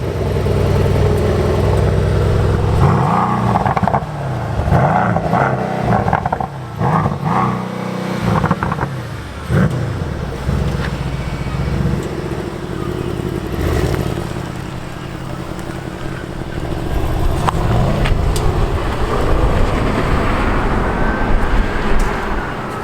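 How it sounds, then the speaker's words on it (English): Mercedes-AMG C63 S engine starting up and revving, a loud, close medium-pitched roar with repeated rising and falling throttle blips and a steady rumbling idle between them. "Start up and revs."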